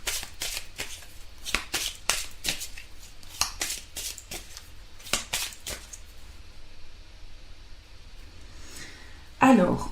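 Tarot cards are shuffled and drawn close to the microphone in a quick run of crisp riffles and flicks, then a louder rustle at the end; no one speaks.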